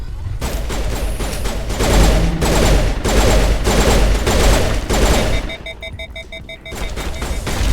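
Rapid pistol gunfire in the Mass Effect game, from a fight on the Thorian mission. Dense bursts of shots repeat for several seconds, loud and close, and a beeping alert tone takes over near the end.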